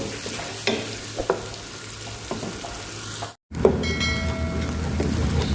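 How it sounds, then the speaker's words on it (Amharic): A pot of finely chopped onions sizzles steadily while a utensil scrapes and stirs in occasional knocks; after a brief cut the frying resumes, louder and crackling. "ሽንኩርት በደቃቁ የተከተፈ 2 ፍሬ፣ በደንብ አድርገን ተቀማጠን"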